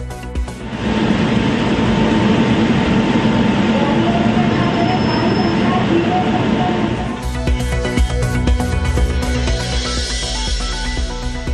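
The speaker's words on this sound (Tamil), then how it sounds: "மகளிர் தினத்தை ஒட்டி முற்றிலும் பெண் பணியாளர்களுடன் இயக்கப்பட்ட ரயில்." The Bundelkhand Express train rumbles past steadily, loud and close, with faint wheel squeal and a shift in its roar partway through.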